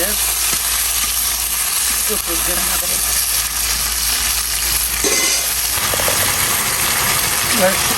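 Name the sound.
spices sizzling while being sautéed in a pan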